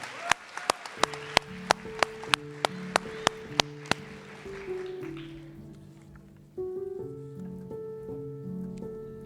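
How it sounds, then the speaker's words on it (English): At a nursing college white coat ceremony, scattered sharp claps ring out at first, then give way to soft crowd applause under sustained tonal music. "Round of applause for these great students here at LCON"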